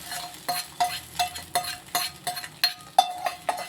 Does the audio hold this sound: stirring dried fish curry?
yes